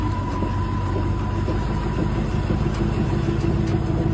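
A car engine runs with a steady mid-pitched drone and low rumble, an apparently driverless car slowly moving on its own, the hum continuous and fairly loud throughout with faint high whine above.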